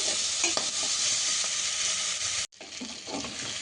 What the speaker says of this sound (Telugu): ఒక ఏడు నిమిషాలు ఆరు నిమిషాల దాకా మేము ఫ్రై చేస్తున్నాం